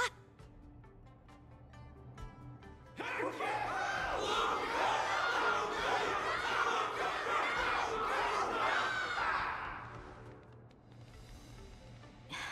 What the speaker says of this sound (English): Everyone's cheering for you, Luka!